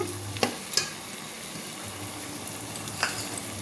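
Vegetables frying with ginger garlic paste for a potato and carrot veg biryani, a soft steady sizzle broken by a few sharp utensil scrapes and stirring clicks, close and fairly quiet, with no one talking.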